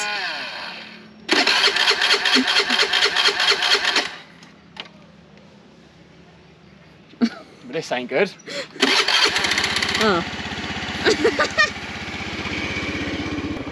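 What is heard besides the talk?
motorcycle engine struggling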